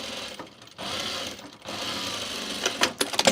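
A sewing machine stitches fabric in close, rapid bursts of mechanical chatter separated by brief pauses, ending in a few sharper clacks.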